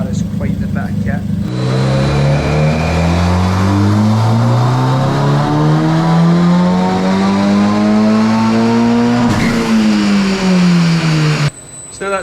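A Ford Focus ST225 engine with a stage 2 tune roars continuously at high load on a dyno, its pitch climbing steadily through the revs, then dropping off and winding down near the end.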